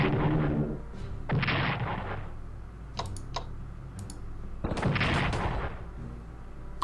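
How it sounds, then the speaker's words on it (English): A bombing attack in the Strategic Command 1939 World War II strategy game lands as several separate booming bursts of explosion effects, spaced apart, with light clicking between them. "And just bomb these guys."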